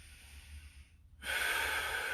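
A deep breath drawn in while holding a static hinge-position stretch with a stick or pole: a soft, airy rush that starts partway through and carries on steadily to the end, close and clear.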